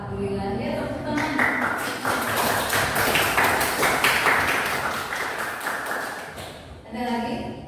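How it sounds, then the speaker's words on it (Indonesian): A classroom full of students claps together in sustained, dense applause for several seconds, fairly close and loud, with a person speaking just before and after it. "Ya, tepuk tangan."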